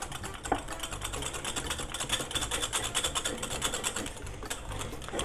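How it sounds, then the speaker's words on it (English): A whisk beating apple cider vinegar and whole grain mustard dressing in a bowl, producing a rapid, steady clicking and scraping that runs continuously at close range with no talking. "And you whisk that all up."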